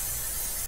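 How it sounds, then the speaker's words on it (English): Brief steady hiss of a spray can discharging close by, loud and continuous before cutting off abruptly. "Wait, yeah, let's spray him."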